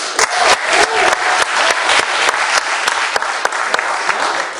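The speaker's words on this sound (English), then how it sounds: "Give them a round of applause." A crowd claps steadily and energetically, dense applause filling the room with a few louder sharp claps standing out.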